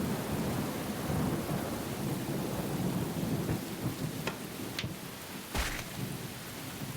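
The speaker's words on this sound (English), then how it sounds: "It looks like it might start to rain soon." A cartoon thunderstorm with steady rain hissing throughout, sharp cracks of thunder splitting the air near the end and a deep boom following, with no talking.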